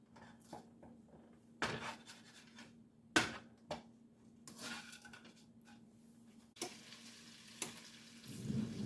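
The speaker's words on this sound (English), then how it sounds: "I cut this stick of butter into half, and then I'll add it to my skillet to melt." Half a stick of butter melts in a skillet with a soft, quiet sizzle, broken by occasional scrapes and taps of a utensil against the pan.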